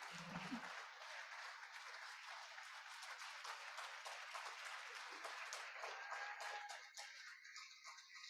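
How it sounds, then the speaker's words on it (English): A room of Rotary club members in Gainesville claps steadily through a hybrid meeting. The applause is sustained and fairly even for about eight seconds, then thins slightly near the end. "let's give everybody a round of applause"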